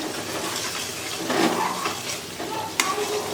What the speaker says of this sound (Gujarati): આપણે હલાવ હલાવ જ કરવાનું છે ઉપર લીડ પણ નથી ઢાંકવાનું આવી રીતે અને આ સબ્જી તળીએ ચોટે નહીં એટલે આપણે હલાવ હલાવ કરવાનું છે